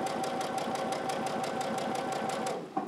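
A sewing machine stitches a mitered corner on a cloth napkin, its needle running in a fast, steady rhythm at close range, then stopping just before the end.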